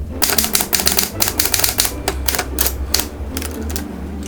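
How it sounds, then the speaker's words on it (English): Keys of a manual typewriter strike in rapid, uneven bursts of sharp clacks while a letter is typed, close and loud, with brief pauses between runs and no voices. "a great way that I relax but still keep in touch with the outside world and everyone I love is by typing letters on a manual typewriter like this beauty"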